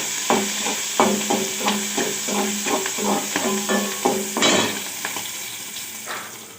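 Battered fish frying in hot oil, a loud sizzling bed under a rapid series of sharp utensil taps and clinks against the pan, louder bursts near the middle before settling.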